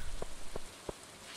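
Rain from the Stardew Valley video game, a soft steady patter with a few faint, regularly spaced drip or tap accents, heard alone at low level.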